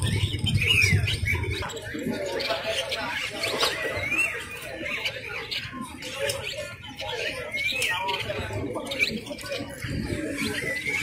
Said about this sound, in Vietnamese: Các bạn nghe nó hót này,